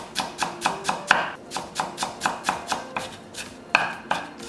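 A knife thinly slices onion on a cutting board for a Korean acorn jelly dish, giving about twenty crisp, evenly spaced chops in a steady rhythm, close up and with no talking.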